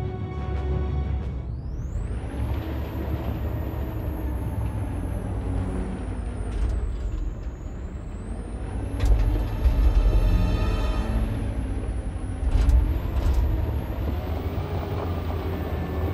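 Truck driving in the video game Detroit: Become Human, a steady loud engine drone with rising and falling revs and a hissing air-brake-like tone, bumps and clunks near the middle, no talking.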